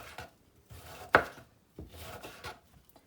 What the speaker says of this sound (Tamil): குட்டி குட்டி பீஸாக கட் பண்ணிக்கோங்க